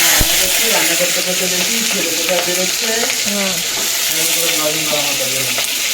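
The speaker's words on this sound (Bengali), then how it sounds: "এবার আলু আর কুঁদরি ভাজা হবে" Loud, continuous frying sizzle of potato and ivy gourd pieces in a pan, with a voice humming or talking faintly underneath throughout.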